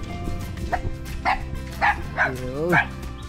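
Dog barking in a few sharp, close yips and bow-wows spaced about half a second apart, with people talking around it.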